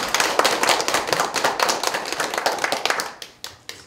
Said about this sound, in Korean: 큰 박수로 감사하겠습니다